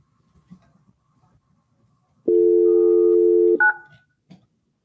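Phone dialing tones, a steady sustained tone lasting over a second followed by a couple of short beeps, loud and clear with no talking.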